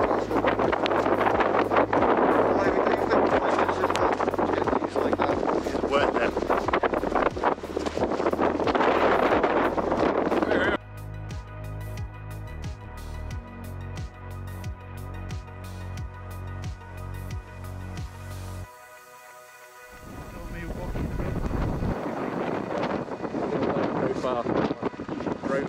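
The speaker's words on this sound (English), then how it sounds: "even just standing in the wind." Strong wind blows across a winter mountain hike in Snowdonia near Cwm Idwal and Glyder Fawr, roaring and buffeting the microphone in long gusts that ease briefly before building again.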